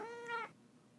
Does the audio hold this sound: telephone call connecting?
no